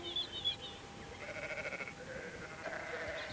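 Sheep bleating on a farm, a few wavering calls that overlap, moderately near and fairly soft over a steady background, with no talking.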